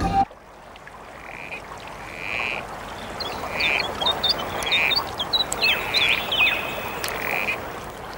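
A male corroboree frog calls repeatedly on a night plateau in the Bogong Plains, short squelchy croaks spaced about a second apart over a quiet hissing background.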